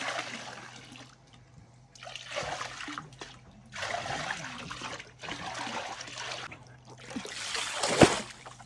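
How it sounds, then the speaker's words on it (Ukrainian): Water poured into a container, mixed with silver for a pool treatment, heard as several bursts of splashing and trickling separated by short pauses, with a louder splash near the end. "Бульк. Ще набираю води і додаю срібло."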